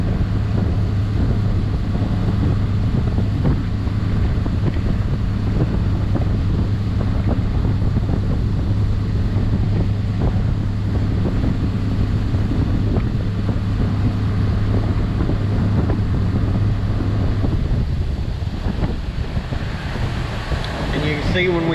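Boat cruising steadily at speed on open water, a loud continuous low engine drone and hull rush mixed with heavy wind buffeting on the microphone, constant for about twenty seconds before easing slightly at the end.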